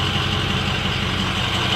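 A 6.0 Powerstroke diesel 4x4 with a 4-inch straight pipe exhaust and SCT performance tune idles with a loud, steady, low rumble and constant throb throughout.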